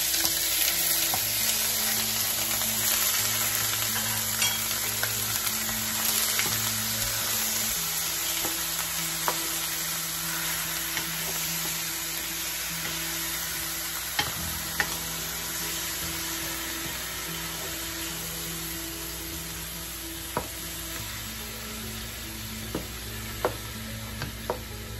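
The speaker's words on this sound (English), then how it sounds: "Now we will add the pork chunks." Pork chunks fry in a pan with garlic and onion for a saucy pork menudo, giving a steady loud sizzle throughout. Occasional stirring clinks and scrapes break in at intervals, and nobody speaks.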